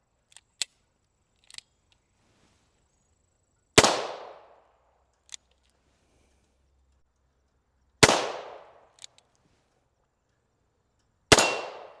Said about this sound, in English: I missed a couple shots just because I haven't shot this gun in a while